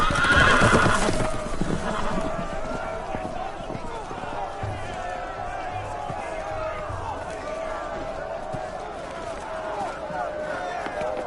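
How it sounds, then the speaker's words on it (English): In a Game of Thrones video game scene, a horse whinnies loudly at the start, then loose horses' hooves clatter steadily beneath a busy, layered mix of shouting and background noise. "The horses! They're loose!"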